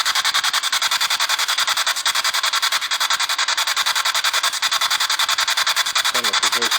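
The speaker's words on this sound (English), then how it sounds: "So we're going to start with a spirit box and see if we can capture anything on this." A ghost-hunting spirit box sweeps through radio stations inside a pub, giving a loud, continuous rasp of static that is rapidly and rhythmically chopped, with a brief tonal blip near the end.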